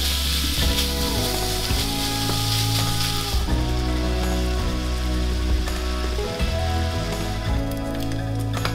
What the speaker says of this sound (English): I am going to brown up or cook up all of this bacon.